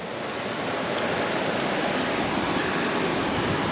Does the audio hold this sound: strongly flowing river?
yes